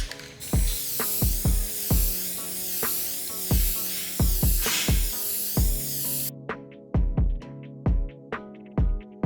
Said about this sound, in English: I went ahead and hit these with a matte clear coat to seal everything in